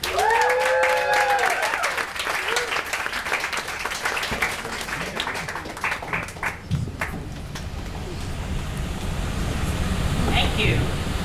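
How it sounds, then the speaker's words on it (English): An audience at a literary reading series applauds a reader, with warm, full clapping and some crowd voices early on that fade into a quieter, thinning patter. "Please give a hearty, restless hand for Brook Wilensky-Lanford."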